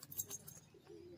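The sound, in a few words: male Giribaz pigeon cooing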